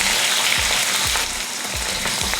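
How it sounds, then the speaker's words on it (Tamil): Curry leaves, small shallots and garlic sauté in a pan, making a loud, continuous sizzle with a few soft low thumps as they are moved around, and no voices. "அடுத்து கொஞ்சம் கருவேப்பிலை, ஒரு 20 போல் சின்ன வெங்காயம், அடுத்து ஒரு 10லேருந்து 15 போல் வெள்ளைப்பூண்டு. இதை வதக்கிடலாம்."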